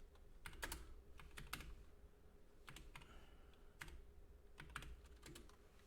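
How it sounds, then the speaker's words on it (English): Soft, close computer keyboard typing while entering a message in the Naval Action game's nation chat: irregular clusters of quick key clicks with short pauses between them, faint and with no voice over them. "If I could type."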